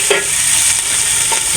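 Onions being fried gradually in a home kitchen pan give a steady, close sizzle with faint stirring scrapes, no voices over it.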